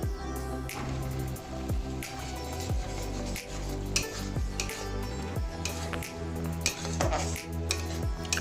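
Onion paste with green chili and tomato paste being stirred in a pan for methi chicken: steady spatula scrapes and knocks against the pot repeat every second or so over a low sizzle, close up, with no talking.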